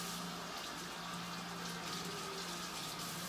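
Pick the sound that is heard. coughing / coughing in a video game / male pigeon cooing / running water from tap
running water from tap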